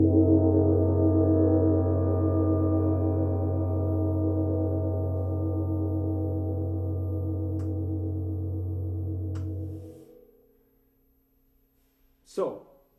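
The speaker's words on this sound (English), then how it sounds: "I want to play with a big mallet, a big soft mallet." A 28-inch Sela chau gong from series 2, struck with a big soft mallet, gives a deep, warm, sustained hum that holds steadily for about ten seconds and then dies away, followed by a faint brief knock.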